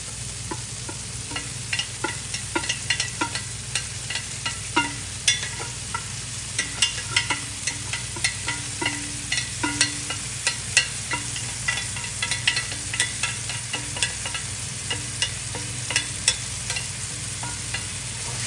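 Boiled noodles being stir-fried in a pan for street-style veg noodles, a continuous sizzle under rapid repeated clacks of a spatula against the pan, close and steady throughout.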